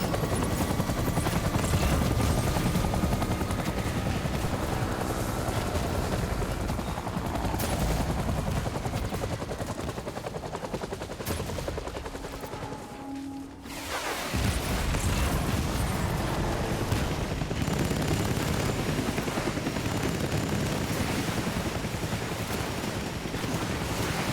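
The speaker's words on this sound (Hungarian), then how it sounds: "a fejünkre fog esni a helikopter" Helicopter in the video game Death Stranding, a loud continuous rotor roar mixed with wind and rushing noise, briefly dipping midway before returning at full strength, with no talking.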